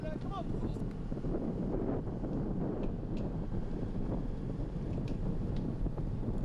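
Strong wind roars across the microphone during a road cycling race in Overijssel, a constant heavy rumbling buffet filling the whole clip, with faint background noise underneath.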